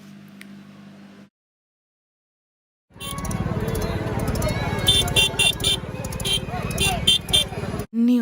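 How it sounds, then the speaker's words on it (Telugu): A short voice opens, then after a silent gap loud, dense street traffic fills the rest: vehicle horns honking repeatedly over a constant engine roar on a crowded street in Nellore. "విన్నారు కదా సౌండ్స్ ఎలా ఉన్నాయి, హార్న్ సౌండ్స్"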